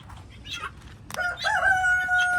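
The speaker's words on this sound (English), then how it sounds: "big hens and roosters in this pen with some guineas" A rooster crows nearby in a pen of big hens, roosters and guinea fowl, one drawn-out call rising then holding, with faint clucking before it and a quiet outdoor background.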